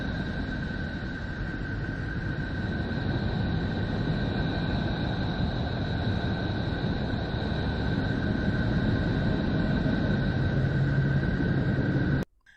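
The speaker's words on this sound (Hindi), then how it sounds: "ये जो भी आप सुन पा रहे हैं ये नेपच्यून की आवाज है।" Sonified electromagnetic data from Neptune, recorded by NASA's Voyager, plays as a steady, continuous hiss and rumble with faint sustained tones, holding at an even level for about twelve seconds before cutting off abruptly.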